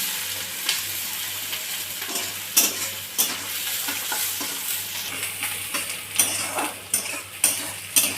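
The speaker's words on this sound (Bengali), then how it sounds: "পেঁয়াজটা হালকা লাল হয়ে গেছে, বেশি ভাজবো না তাহলে ওর সাথে পুড়ে যাবে।" Chopped onion and garlic fry in a pan with a steady sizzle, while a utensil stirs and scrapes the metal in sharp, irregular clinks close by.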